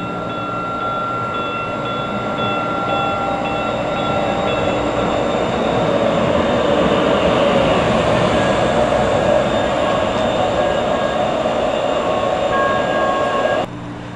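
Steady, loud rumble of a night train from inside a carriage, with sustained tonal whine and rail noise running continuously before a slight drop at the end.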